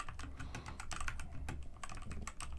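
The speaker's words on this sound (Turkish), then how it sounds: "Klavyeye alışamadım, o yüzden bakarak yazıyorum." Steady typing on a Redragon K617 Fizz RGB gaming keyboard, a quick run of close, crisp key clicks with no voices.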